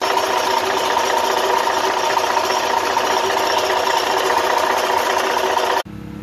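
A Freightliner Cascadia truck engine with a broken clutch bearing runs with a dense, steady, vibrating mechanical rattle at close range for nearly six seconds, then abruptly drops to a quieter hum.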